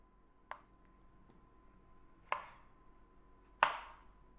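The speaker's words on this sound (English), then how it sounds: "So now that we have our cucumbers and tomatoes chopped up" A knife chops cucumbers and yellow tomatoes on a board with three sharp, separate chops spaced about a second or more apart, each louder than the last. They sound close but fairly quiet over a faint steady hum, with no speech.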